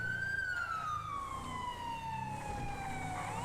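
An emergency vehicle siren wails steadily and loudly from close by, its tone sliding slowly downward over a low rumble of road noise, with no talking.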